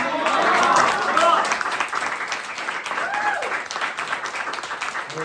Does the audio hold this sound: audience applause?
yes